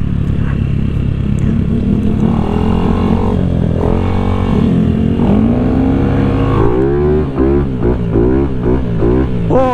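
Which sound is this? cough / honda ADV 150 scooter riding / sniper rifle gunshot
honda ADV 150 scooter riding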